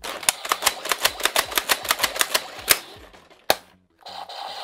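A Power Rangers Ninja Super Steel Blaster toy fires a quick run of about a dozen sharp, evenly spaced clicking pops, then one louder pop after a pause, followed by a faint hiss.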